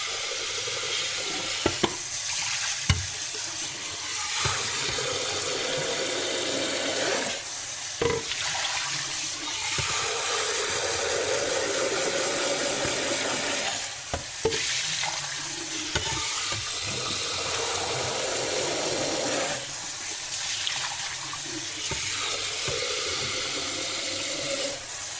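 Hot tap water pours in a steady close stream over a silicone slow feeder held under the faucet, rushing and splashing for a long stretch with occasional knocks of handling and no voices.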